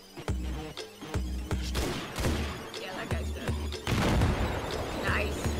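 Grenade blasts and gunfire in a tactical military shooter game, several loud booms and sharp bursts spread through the stretch over a steady low rumble.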